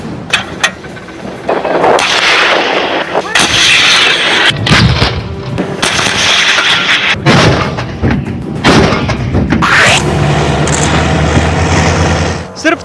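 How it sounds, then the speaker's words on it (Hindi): Russian artillery near the Ukrainian border firing cannon shells, a rapid series of loud booming blasts and thuds over about thirteen seconds, with voices heard between the shots. "आप गिनते गिनते थक जाएंगे, लेकिन रूस की फायरिंग खत्म नहीं होगी।"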